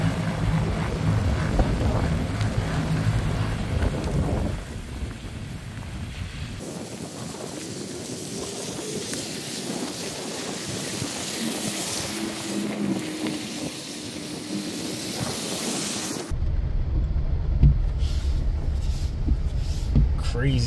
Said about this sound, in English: Crazy storm comes out of nowhere.